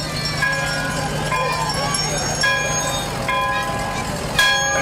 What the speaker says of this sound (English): Church bells, they got the church bell on the float